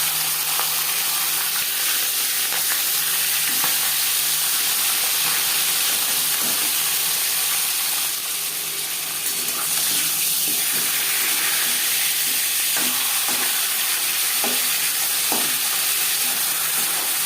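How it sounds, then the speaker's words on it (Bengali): Katla fish head fries in a few spoonfuls of hot refined oil, a loud steady sizzle and hiss lasting throughout, with a few crackles and spatters near the pan. "মাছ ভাজবার জন্য 4-5 চামচ রিফাইন্ড অয়েল গরম করে নিয়েছি। দিয়ে দিলাম মাছের মাথা।"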